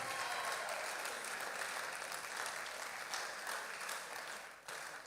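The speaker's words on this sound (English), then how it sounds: "Please, let's clap as he comes." Audience applause at a church youth conference as a reverend comes forward, a dense, steady wash of clapping from a large crowd that holds throughout, fading slightly toward the end.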